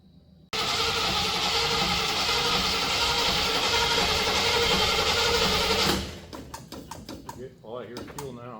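Fuel pump on a 1967 Camaro starts abruptly and runs with a steady mechanical whir for about five seconds, then cuts off and people talk nearby.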